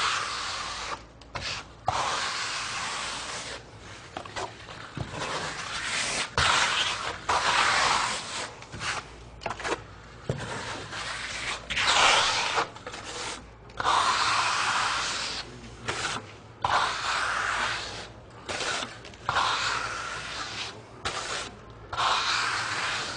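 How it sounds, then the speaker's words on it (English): A flat steel trowel sweeps Lymestone lime plaster finish across a wall in long, steady scraping strokes with brief pauses between passes, close and continuous, with no voices. "when I trowel it, can you see how smooth it lays down?"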